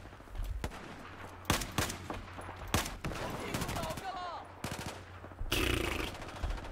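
SVD sniper rifle fire in the video game Battlefield 4 on a Naval Strike map: sharp, loud single shots come at irregular intervals, with other gunfire and game sounds between them.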